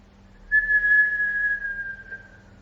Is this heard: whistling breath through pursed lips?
yes